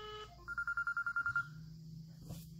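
An outgoing call on an iWO8 Lite smartwatch rings back as a series of about ten quick, evenly pulsed electronic ring tones, clear and close, followed by a low hum and a brief click.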